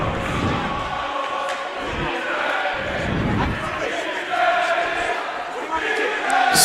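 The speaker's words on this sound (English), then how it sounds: "Both crowds making a lot of noise." Crowd noise at a varsity high school hockey game, with both sides cheering and shouting in a loud, echoing rink. Thumps and board slams are mixed in, and the roar swells and dips throughout.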